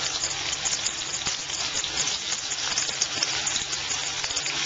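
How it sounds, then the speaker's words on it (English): Mango pieces for pickle sliding into a pan of oil with no flame under it, giving a steady soft hiss and crackle throughout, close and alone. "I take the mangoes, still there is no flame, mango cut pieces, and slowly slide it into the oil"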